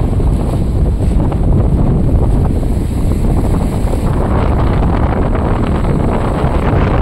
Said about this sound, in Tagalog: Sobrang lakas ng hangin. Sobrang lakas ng alon.